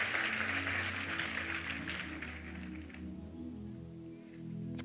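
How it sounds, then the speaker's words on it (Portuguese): A church congregation applauding during a Sunday evening service, steady broad clapping that softens and thins toward the end, moderately distant in a reverberant hall. "Vamos aplaudir a Ele"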